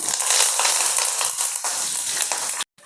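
Dry red chillies and torn curry leaves frying in hot oil, a bright continuous crackling sizzle close up that cuts off abruptly near the end.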